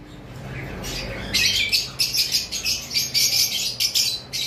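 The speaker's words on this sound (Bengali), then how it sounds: "এখানে একটা পেয়ার কোকাটেল দেখতে পাচ্ছেন" A white-faced cockatiel pair screeches in a loud series of sharp, rhythmic squawks after a quieter start, close by and alone without voices.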